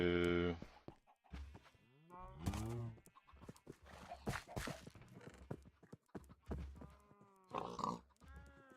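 A cow in the video game Minecraft gives a short low moo at the start, followed by a person talking in a quiet room.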